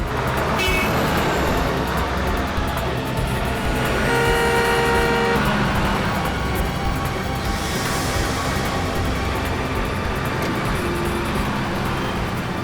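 Busy road traffic with a bus passing and car horns tooting, a dense steady roar of engines throughout with a brief sustained honk in the middle and lighter horn blips later.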